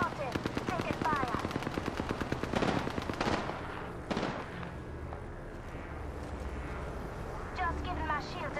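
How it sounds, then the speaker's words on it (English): Rapid automatic weapon fire rattles in an Apex Legends match, loud dense bursts followed by sharper single shots and a lingering battle din, with a voice speaking over it. "I'm spotted. Taking fire."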